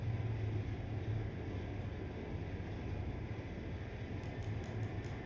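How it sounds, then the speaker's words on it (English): An electric passenger train driving in the Train Life railway simulator game: a steady low rumble of motor and rolling wheels, with a few faint rhythmic clicks near the end. "Got a new electric train, not diesel now."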